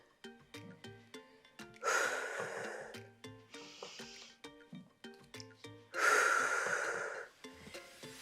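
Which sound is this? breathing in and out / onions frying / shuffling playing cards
breathing in and out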